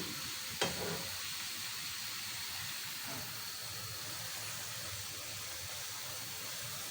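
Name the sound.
malpua frying in a pan on low flame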